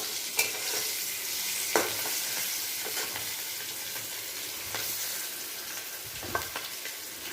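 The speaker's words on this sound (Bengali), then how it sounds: "নুন হলুদ দিয়ে তেলে ভেজে দিয়েছিলাম।" Spiny gourd (kakrol) pieces, soaked in salt and turmeric, frying in oil with a continuous close hiss and crackle, a few sharp spatula taps and scrapes at intervals, no voices.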